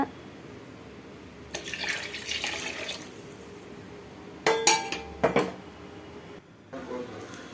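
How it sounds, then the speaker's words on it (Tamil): Water is poured from a cup into a cooking pot, with a splashing burst, then clinks of metal dishes and pans close by and another short pour. "இப்போ திரும்பவும் தண்ணி ஊற்றுங்க."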